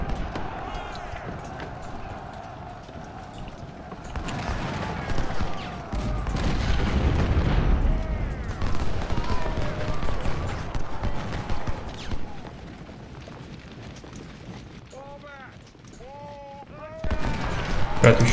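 Massed infantry musket volleys in the Civil War strategy game Ultimate General: Civil War crackle in bursts, growing heavier through the middle and again near the end, mixed with game music and battle noise.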